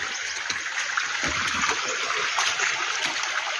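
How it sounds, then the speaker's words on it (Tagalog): Rushing water of a mountain stream, a steady close splashing and trickling wash with no talk. "pwede dyan maligo sa sapa"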